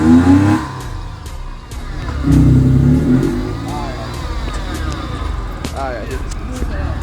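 An abandoned Nissan's engine revs in bursts as the gas is pressed, rough and close, swelling twice over a running idle while people talk nearby.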